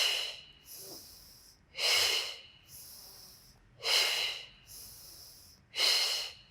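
Forceful exhalations through the nose and mouth during a beginner Pilates core workout, four rhythmic breathy puffs spaced about two seconds apart, close and fairly quiet with no talking.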